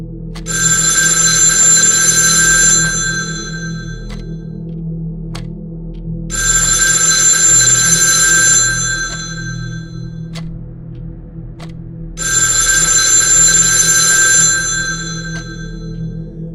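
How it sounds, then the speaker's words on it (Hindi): A landline phone in a hall rings loudly in three long electronic trilling bursts, separated by a few seconds of quiet, with no talking. "तभी अचानक से हॉल में रखे लैंडलाइन फोन की घंटी बजती है।"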